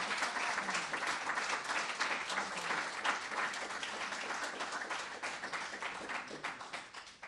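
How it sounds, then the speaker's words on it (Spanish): A church congregation applauds steadily throughout, a dense, continuous wash of many hands clapping at even loudness that thins slightly toward the end. "Démosle un aplauso a nuestro Dios que Él vive."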